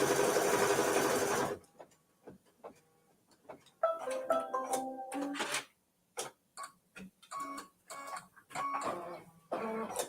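An embroidery machine stitching a Kimberbell mini-quilt gives a loud burst of rapid whirring, then settles into intermittent ticking stitch pulses and short runs of mechanical chatter close by, separated by brief pauses.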